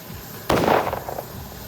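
A single loud, sharp crack of crossfire in the video game Pathologic bursts out after a quiet moment and rattles briefly before fading, heard alone without talk.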